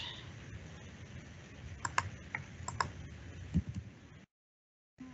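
Keyboard typing on a computer, a quick run of soft clicks and taps with a few sharper keystrokes, fairly faint over a steady background hiss, then a short silence.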